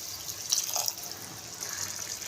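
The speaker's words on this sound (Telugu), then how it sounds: "ఒక గ్లాస్ వాటర్ వేసుకోవాలి" A glass of water pours into egg curry masala spiced with chilli, turmeric and coriander-cumin powder, a short splashing, trickling rush of liquid heard close up.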